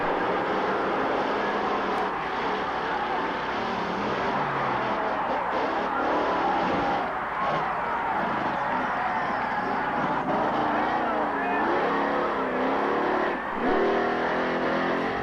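Bigfoot and other monster trucks race in a 1989 MTRA semifinal, a loud, continuous engine roar with surging revs and mechanical grinding that fills the whole stretch without a break.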